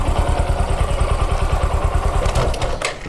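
A motorcycle engine running steadily, with a close, rhythmic low-pitched chug as it is put into first gear during a beginner riding lesson, ending in a brief clatter.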